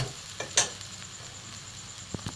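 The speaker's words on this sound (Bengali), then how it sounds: "আমার মুখ কড়াই ভাজা হয়ে গেছে" Mung beans fry in a pan, a soft steady sizzle broken by a few sharp scrapes and knocks of a spoon stirring, with no voices.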